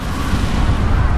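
A loud, dense rumbling roar of an explosion in the video game Watch Dogs fills the whole moment without a break.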